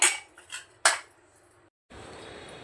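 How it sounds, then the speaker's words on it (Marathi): A lid snapped onto a metal lunch box: a few sharp clinks and clatters, then a short silence before a soft rustling hiss that fits foil being wrapped. "आता हा डब्याला असं झाकण लावते आणि हे फॉईल पेपरमध्ये गुंडाळून देते"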